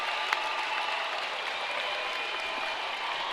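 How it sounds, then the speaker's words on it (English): Crowd of roller derby teams cheering and applauding at halftime of an expo game, a steady wash of distant clapping and cheers with no clear breaks. "All the teams cheering, so excited to have this at their halftime."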